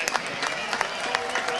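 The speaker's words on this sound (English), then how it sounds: "Please join together for a round of applause for our Hilltopper youth football players" A stadium crowd at a high school football game in Chardon, Ohio applauds the youth football players, a brief burst of clapping mixed with echoing amplified announcer speech.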